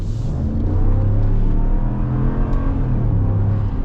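A 2023 Ram Rebel pickup with a 5.7 Hemi V8 and a 3.92 axle ratio pulls hard, its engine drone steady and loud as the pitch climbs and wavers through acceleration, heard from inside the cab with no talking.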